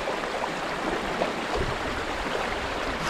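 Water rushing steadily through a broken-open beaver dam, a continuous broadband gush of flowing stream water, fairly close and unbroken, with no voices.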